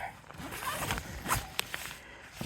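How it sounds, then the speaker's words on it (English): A tent zipper rasps in a few quick pulls, close and fairly quiet, with faint rustling of fabric between strokes, on an insulated inner tent. "Close all three zippers."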